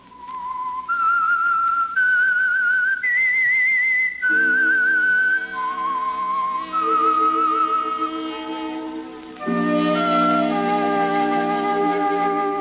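A clear whistled melody of sustained, steady notes stepping up and down, loud and close, joined partway through by soft accompanying instruments, opening a vintage radio drama broadcast.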